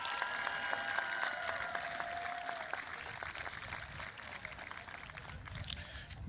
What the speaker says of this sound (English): Clap it up for your parents